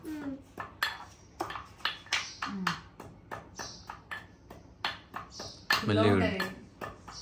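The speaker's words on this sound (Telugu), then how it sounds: "సో గైస్ ఇట్లా దంచుకోవాలన్నమాట" Ingredients for Ugadi pachadi are pounded in a metal vessel with a quick run of sharp, ringing knocks, and voices talk between and over the strikes.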